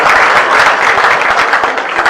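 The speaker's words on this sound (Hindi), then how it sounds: "बजाओ ताली।" A crowd at a village political rally in Gujran, Pehowa claps loudly and continuously, a dense, even wash of applause.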